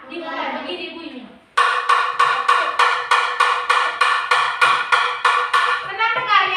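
A wooden kentongan slit drum at a small prayer house is struck before Islamic prayer with about a dozen evenly paced, hollow knocks. A brief voice comes before the strikes and voices return at the end.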